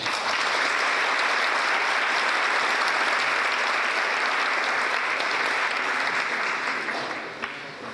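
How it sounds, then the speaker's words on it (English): A school board meeting audience applauds AP teachers at Warner High School with steady, dense clapping that holds for about seven seconds before tapering at the end. "Let's give them all a clap."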